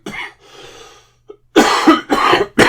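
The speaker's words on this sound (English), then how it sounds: "Love this cough." Several sharp, loud coughs from one person, starting with a single cough, then a quieter breathy pause, followed by three forceful bursts close to the microphone, alone without talk.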